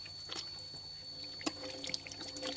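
Hands are rinsed clean with clear water: soft irregular splashes and drips patter over a low steady background, fairly quiet and close.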